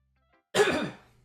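A single short burst of coughing and throat clearing, loud and close, starting about halfway in and trailing off, with silence before it.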